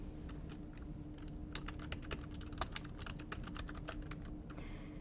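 Close, quiet computer keyboard typing as a name is entered into a WebEx meeting join prompt, a quick irregular run of clicking keystrokes over faint background hum.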